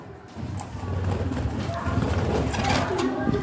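Tame pet birds on a rooftop coo softly amid a busy background with some indistinct voices nearby.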